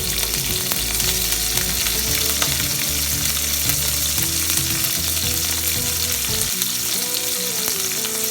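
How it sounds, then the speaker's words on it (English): Mustard seeds, curry leaves and green chilies splutter in hot oil for tomato thokku, a loud, dense crackling sizzle with rapid popping that runs continuously throughout. "See, you can see that our rai is getting spluttering"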